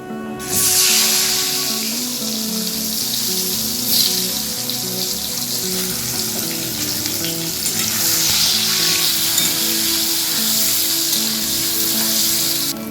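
Salted boiled potatoes fry in mustard oil with turmeric, giving a loud, steady, close sizzle and hiss that carries on without pause.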